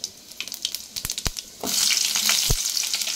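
Cumin seeds drop into hot oil for a rasam tempering, a few sharp crackles and then a sudden loud, steady sizzle that carries on close up with no talk.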